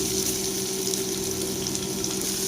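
Onions sauté in a pan for a mutton curry, a dense, steady sizzle and crackle heard up close with no talking.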